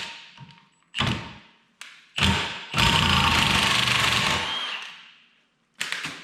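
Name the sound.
loosening a pulley nut with a tool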